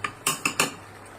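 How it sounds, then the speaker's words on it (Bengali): Spoon scraping and clinking against a pot while stirring beef and potato curry, four short metallic scrapes in a row, close and fairly clear with no talk. "এটারে একটু নেড়ে দিই।"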